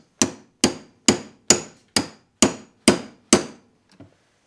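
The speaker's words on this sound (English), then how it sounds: "Put your punch on there and hit it." A hammer strikes a punch to drive out the roll pin on a Briggs and Stratton starter gear, eight sharp metallic blows at an even pace, close and loud, then a faint final tap.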